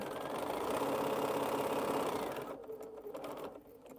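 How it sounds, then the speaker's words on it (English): Sewing machine stitching a quilt piece, a fast, steady mechanical whir close by that runs for about two and a half seconds, then slows into shorter bursts and pauses. "So let's sew this one so I can get my other piece off too."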